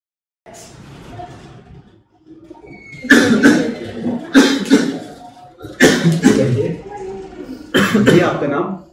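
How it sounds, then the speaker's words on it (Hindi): A man coughing from a heat-related cough, several harsh, loud bursts in an uneven rhythm close by, with other voices and background noise between them. "मुझे खांसी है गर्मी से।"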